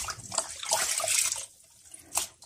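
Pig skin bought at a market is rinsed under a running tap in a sink, splashing and gushing in uneven bursts, louder at first, then easing, with a final short splash.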